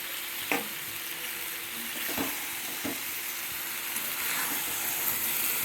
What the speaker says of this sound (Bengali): এই চিংড়ি মাছগুলো দিয়ে আবার কষাবো।